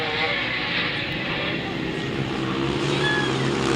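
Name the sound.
two-stroke motorcycle engine at grass track race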